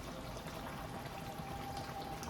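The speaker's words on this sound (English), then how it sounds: "I'm going to clean out all these cans with water," Water pours steadily into empty tomato cans being rinsed out while a Bolognese sauce is made, giving a soft, continuous trickling wash with no talk.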